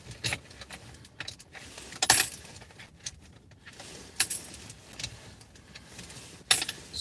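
Loose coins jangle and clink inside a car, coming in several brief, bright metallic bursts spaced across a quiet cabin background.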